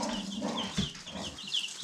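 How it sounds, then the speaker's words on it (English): Chickens clucking softly and continuously nearby, a low, steady murmur of calls with a few higher chirps, without talk. "Even my big chickens love it."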